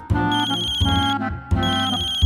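A telephone ringtone plays loud and alone in repeating bursts, a melodic electronic ring cycling about every 0.7 seconds with brief gaps, as a call comes in from kidnappers in a superhero series scene.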